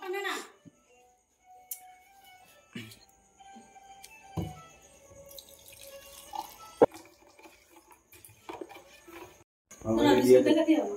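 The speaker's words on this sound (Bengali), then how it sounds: "ডাইরেক্ট ঢেলে দিয়েছি গরম জলে" Liquid poured into hot water in a home kitchen, a loud splashing rush near the end after scattered clinks and quiet handling sounds, with voices talking in the room.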